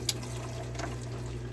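Water pours into a container of instant yakisoba with a soft, steady close-up liquid stream and a faint background hum, no talking.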